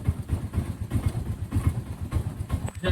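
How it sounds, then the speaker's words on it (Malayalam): An auto rickshaw's small engine idles after starting, a close, steady pulsing putter with a rapid regular rhythm and no talk. "ചെയ്തതിന് ശേഷം 10 സെക്കൻഡ് വണ്ടി ഒന്ന് നന്നായിട്ട് റണ്ണിങ് ആയിക്കോട്ടെ."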